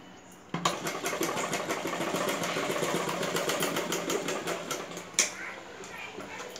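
Sewing machine stitching a blouse back neck, a rapid steady mechanical whirr with a fine rhythmic needle clatter, fairly close, starting abruptly and running continuously with a brief sharp knock near the end.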